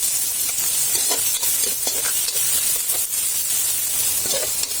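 Garlic and onion sauté in a pan for a homemade caldereta, giving a steady, close, bright sizzle with small crackles and occasional stirring scrapes throughout.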